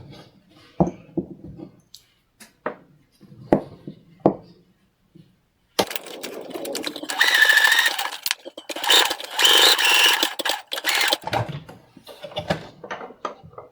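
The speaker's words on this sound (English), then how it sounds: "now I just start sewing all the way around." A sewing machine stitching around a fabric pencil and pen holder for a book, starting after a few quiet handling knocks and running in loud, close bursts of rapid whirring stitches with brief pauses between runs.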